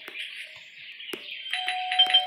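A doorbell in the horror game Scary Teacher 3D chimes a few clear ding tones in quick succession, fairly close and ringing out over quiet background.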